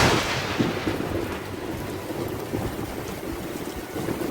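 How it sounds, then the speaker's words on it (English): A heavy thunderstorm in Kuala Lumpur: dense, steady rain hisses and rushes close by, with deep rumbling thunder rolling underneath throughout. No one speaks. "This, ladies and gentlemen, is a proper Kuala Lumpur thunderstorm."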